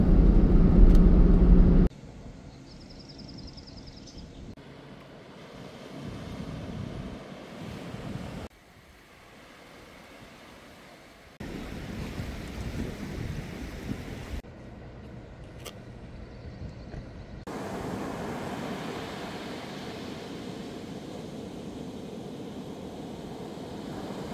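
Pacific Ocean surf breaks along a rocky California shore, a broad roaring wash that swells and recedes in changing sections, mixed with wind buffeting the microphone and faint passing traffic.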